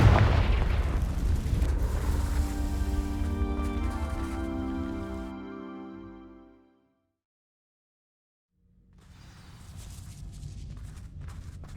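A blast from the Confringo fire spell in the video game Hogwarts Legacy lets out a loud rumbling burst that fades into a low hum, then silence, and then the ambience returns.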